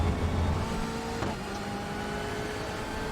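A BMW M8 GTE race car accelerates out of a corner at Sebring in iRacing, its engine a steady, loud, sustained drone with a brief shift partway through, no voices over it.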